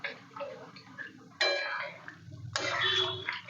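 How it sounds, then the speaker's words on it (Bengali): Marinade liquid poured a little at a time into chicken in a pan for chicken kosha, two splashy, sizzling pours over a quieter background of faint ticks and clinks. "চিকেনটা ম্যারিনেট করে রাখার যে মশলাটা, তার জলটা এখানে দিয়ে দিচ্ছি অল্প অল্প করে।"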